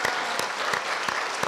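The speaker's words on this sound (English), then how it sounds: "Big round of applause for that." Lively audience applause, a continuous bed of many hands clapping with some louder claps poking through, fairly loud and close.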